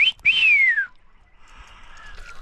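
A person by the river on a Murray cod fishing trip gives a clear, loud rising-then-falling whistle, then a fainter, softer whistle follows over quiet outdoor background.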